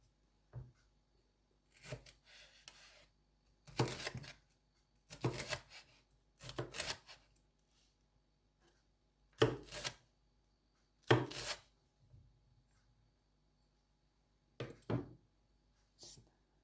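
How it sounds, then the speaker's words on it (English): A knife chops bell peppers into julienne strips on a board, coming in several separate bursts of quick cuts with pauses between them and no talking. "most of it julienne, but it's up to you how you like to chop your veg."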